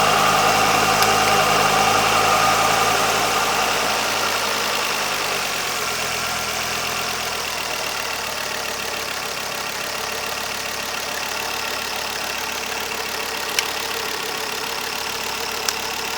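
A Ford Focus RS engine idles steadily after starting, a continuous mid-pitched rumble with a faint knocking character, close by and alone without any talk.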